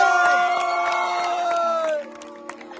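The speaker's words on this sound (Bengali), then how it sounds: "একটা জোরে হাততালি" A stage-show audience at a folk singer's concert cheers and claps loudly for about two seconds under a sustained tonal shout, then fades to a quieter crowd murmur.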